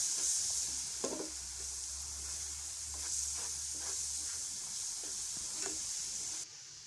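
Egg and semolina halwa sizzles and fries in a pan while a spoon stirs it, giving a continuous close hiss broken by a few sharp scraping strokes.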